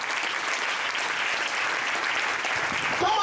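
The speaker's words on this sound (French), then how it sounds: "Est-ce que tu peux acclamer le Seigneur pour cela?" A church congregation at a Sunday service claps together in sustained, dense applause, a steady wash of many hands heard from within the room, with a faint voice rising near the end.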